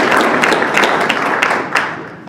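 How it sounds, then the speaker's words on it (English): Audience clapping at a health system's annual celebration, a short burst of dense, close applause that fades slightly at the end. "Just give it a little clap for that"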